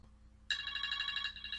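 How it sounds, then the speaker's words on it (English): A phone alarm tone sounds abruptly during an online poker session, a steady bright electronic ringing with a slight pulsing rhythm that continues to the end, fairly loud over a low background hum. "That's an alarm I have set on my phone."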